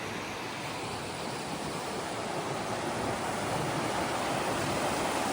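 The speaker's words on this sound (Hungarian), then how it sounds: "Miközben a hegyi patakok csobognak talpaink alatt." Mountain streams in the High Tatras rush steadily and close by, a dense, unbroken babbling with no voices.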